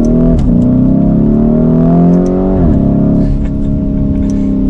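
A 2020-2023 Lamborghini Urus in Corsa mode accelerates hard, its engine and exhaust rising in a loud, close, smooth climb with a brief shift dip before pulling again.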